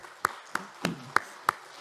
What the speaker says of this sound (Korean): 박수로 네 분 환영하며 축복하겠습니다